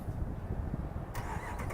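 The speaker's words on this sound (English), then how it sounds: "Press this button twice, you can remote start the Ram." A 2016 Ram 1500 pickup truck engine remote-starts, turning over and settling into a steady low rumble through dual exhaust, with a brief higher whine as it catches.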